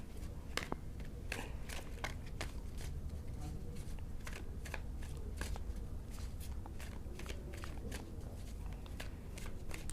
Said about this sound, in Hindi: कार्ड की शफलिंग चल रही है